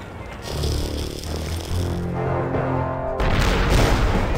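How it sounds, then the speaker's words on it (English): A large explosion from the video game The Curse of Monkey Island, a loud rumbling blast with low booming tones that swells and then breaks into a bright, noisy burst near the end. "That's a lot bigger explosion."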